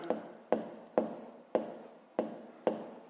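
Pen strokes on paper while working a fifth-grade maths exercise by hand, heard as six sharp, evenly spaced scratches, each fading quickly, close and moderately loud with no voice.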